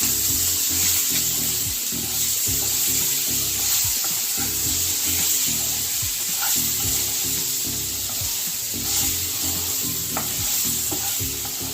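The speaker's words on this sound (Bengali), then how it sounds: "পরিমাণ মতো নুন দিলাম, দিয়ে এটাকে বেশ ভালো করে ভেজে নিতে হবে" Pointed gourd fries in hot oil with salt, a loud continuous sizzle and crackle close by, with frequent scraping stirs throughout and no one speaking.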